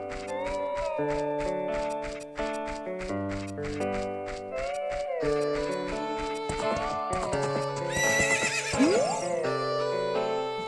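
In the ranch of the video game Zelda: Ocarina of Time 3D, a horse whinnies briefly near the end, rising over continuous, prominent melodic game music.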